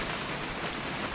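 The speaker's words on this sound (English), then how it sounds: "It's gonna rain the whole weekend" Rain in the video game What Remains of Edith Finch makes a steady, dense hiss of falling drops, constant and fairly loud with no voices.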